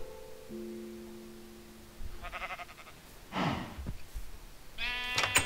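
Sheep in the video game Minecraft give several short bleats at close range, preceded by a faint steady tone, with no talking.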